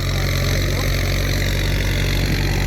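A steady engine hum runs throughout, a constant low idling drone with no pauses and no voices on top.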